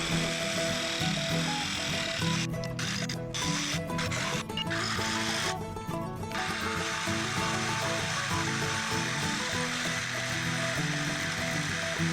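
A jigsaw buzzes continuously through wood, close and steady, with a few short breaks in the cutting.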